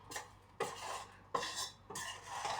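Kısır bulgur salad is stirred with a utensil in a bowl, four close, scraping strokes with soft clinks of metal against the dish, and no voices.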